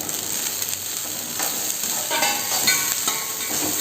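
Onion and ragi stir-fried in a pan, with a steady frying sizzle and soft scraping stirs throughout, near and continuous with no talking.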